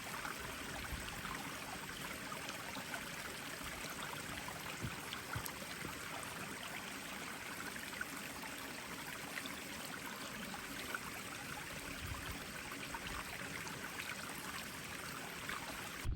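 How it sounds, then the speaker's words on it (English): A small mountain stream in the Scafells trickles and babbles steadily, a constant soft rush of water at close range with no voices over it. "there's a good little stream here"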